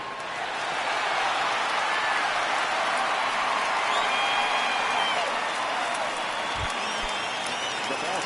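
A stadium crowd in a baseball video game gives a broad, steady roar that swells and holds for several seconds, with a commentator's voice running over it.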